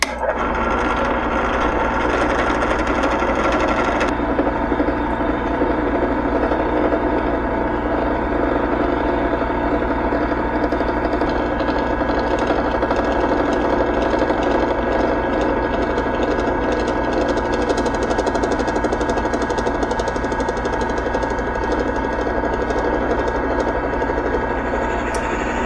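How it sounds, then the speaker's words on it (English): A machine drills a first hole in a workpiece with tap oil on the bit, a steady, loud mechanical whir and grinding hum that runs continuously without pause. "turn the machine on. Let's get our first hole started."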